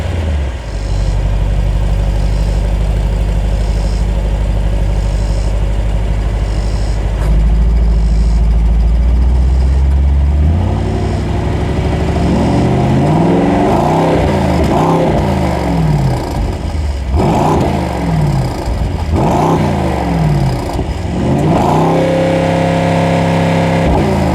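Mercedes-AMG GT55 engine while driving, a loud steady drone that deepens and then climbs through repeated revving surges and gear changes, sounding close inside the cabin with no talk.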